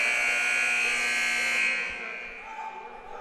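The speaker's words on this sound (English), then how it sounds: "here comes the buzzer right now" A long electronic buzzer sounds loud and steady in a women's college basketball gym to start the second half, then cuts off into crowd murmur.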